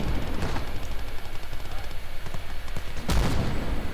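Distant rattling gunfire and a heavy mortar impact in the WWII strategy game Call to Arms - Gates of Hell, with a sharp boom near the end, under a commentator's talk.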